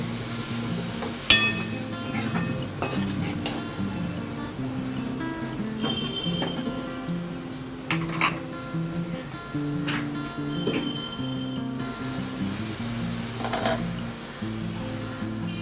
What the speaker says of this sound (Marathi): हळद, हिंग घालून आपण जरा हे परतूया.